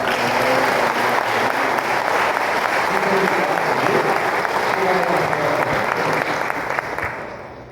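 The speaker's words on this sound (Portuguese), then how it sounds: "Uma salva de palmas." Congregation applauding in a church during an anniversary service, a dense steady wash of many hands clapping close by for several seconds, with faint voices beneath, tapering off at the end.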